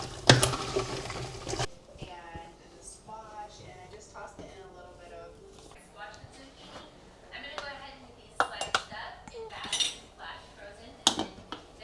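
A spoon scrapes and clinks against a pot while stirring jalapeno peppers in maple syrup, with irregular metallic knocks and scrapes near the mic and someone talking between them.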